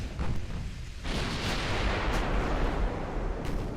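Battleship main guns fire a salvo in the naval game Ultimate Admiral Dreadnoughts, heavy booming blasts with rumbling noise that swells after a second and sustains, with a few sharper impacts layered in.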